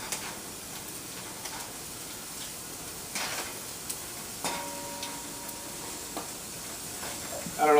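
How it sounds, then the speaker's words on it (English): A spoon stirs sofrito with rice and bacon in a hot pan, giving a soft, steady sizzle and hiss with a few scraping strokes close by and no talking. "Come over here and give this a little bit of a stir."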